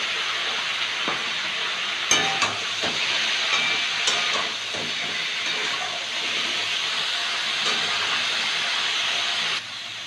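Broccoli fries lightly in a pan with salt and turmeric, giving a steady, close hiss with scattered soft crackles and pops throughout, alone without any talking.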